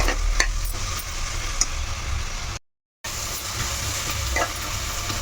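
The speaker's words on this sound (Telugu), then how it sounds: "ఇవన్నీ కలిపి మొత్తం ఇలా మిక్స్ చేసుకోవాలి" A prawn and potato curry mixture with turmeric and salt is stirred in a pan, giving a steady, loud scraping and sizzling wash that stops abruptly for a half-second gap before resuming.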